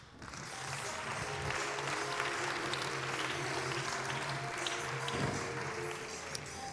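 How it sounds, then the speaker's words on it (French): An audience at a French afternoon debate event applauds a speaker being welcomed, a steady, somewhat distant wash of clapping that swells and holds evenly, with faint voices mixed in. "Je vous demande d'accueillir et d'applaudir Vincent Cespedes."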